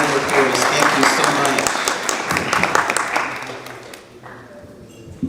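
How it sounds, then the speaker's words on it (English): An audience at a Brooklyn peace celebration event applauds with a dense burst of clapping. It starts loud and fades away over a few seconds, and a voice speaks briefly as it dies down. "Please give him a round of applause."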